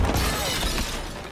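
Glass shattering during a fight in the Injustice 2 video game, a loud, dense burst of breaking shards that crashes in at once and rings on briefly with no voices.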